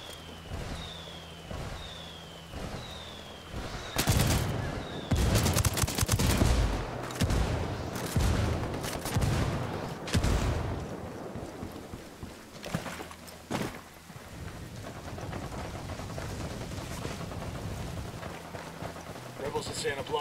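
Rebel indirect fire lands in Ghost Recon Wildlands: a roaring burst of heavy gunfire and explosions erupts mid-way after quieter ambience and radio-like beeps, then trails off into scattered shots and rumble.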